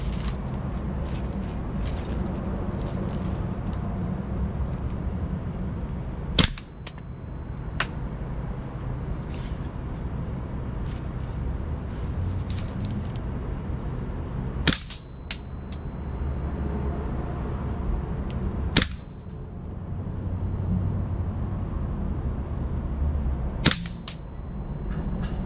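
Four sharp single shots from a GHK SG553 gas blowback airsoft rifle, spaced several seconds apart, each a crisp crack with a brief mechanical clack, over a steady loud background rumble.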